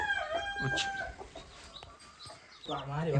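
A free-range country hen on a poultry farm clucks and squawks close by in short bursts while trying to pull an egg beneath her, with harmonic calls at the start and a louder flurry of clucking near the end.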